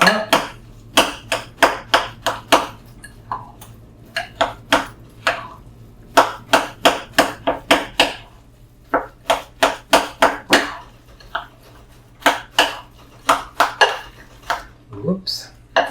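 Meatloaf mixture with eggs is stirred in a bowl with a utensil, giving sharp, loud, close knocks and scrapes against the dish in an irregular rhythm with short breaks.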